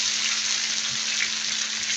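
Ground lau (bottle gourd) leaf greens go into a hot frying pan, giving a steady, close, continuous sizzle with no talking.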